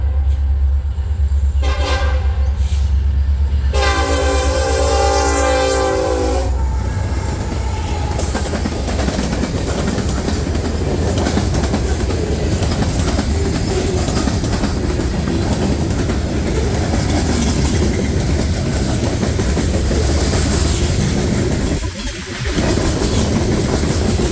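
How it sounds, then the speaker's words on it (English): A Norfolk Southern freight train passes close and loud, led by a rebuilt EMD SD70ACe with an AC44C6M rebuild trailing. Its horn sounds in repeated blasts early on, then a long, steady rumble and clatter of wagons follows. "He's got a rebuilt EMD SD70 ACC 1823 leading, along with another one of NS's rebuilds, an AC44 C6M number 4483."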